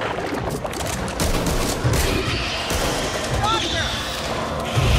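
Rapid, dense bursts of gunfire from a hard-recoiling gun in the video game Back 4 Blood, sustained and loud throughout with no gaps.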